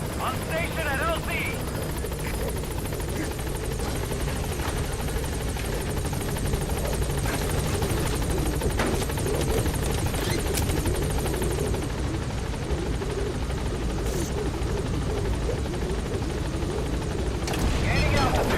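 Helicopter arriving at a landing zone in Metal Gear Solid V: The Phantom Pain, a loud steady rotor drone throughout with radio voice chatter over it.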